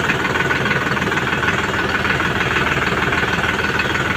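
A tractor engine runs close by with a loud, steady, rhythmic chugging idle that continues without pause.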